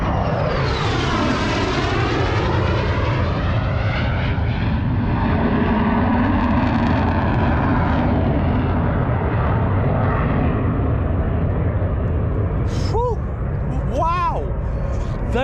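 F-18 fighter jets fly overhead on a calm day out canoeing, a loud roaring engine rush that sweeps down in pitch as they pass and fades into a sustained rumble, with faint bird chirps near the end.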